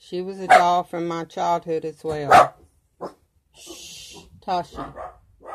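Someone talks while a dog barks briefly in the background, followed by a short hushing sound and more speech.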